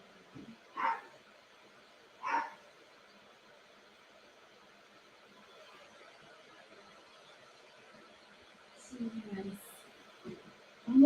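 A small, elderly, nearly blind dog barks indoors, two short sharp yaps spaced apart, followed later by softer low sounds and a quiet background hum.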